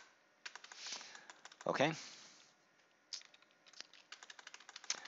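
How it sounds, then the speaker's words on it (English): Password being typed on a computer keyboard during a Cisco router setup, heard as quiet, close clicks in irregular bursts, with a short spoken word in the middle. "and then type in the password"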